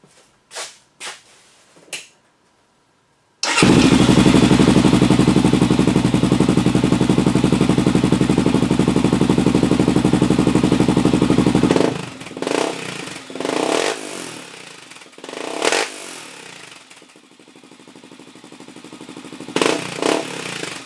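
A motorcycle fitted with a Big Gun exhaust fires up after a few faint knocks, then idles loud and steady for several seconds before cutting out, followed by scattered clatter and handling noises.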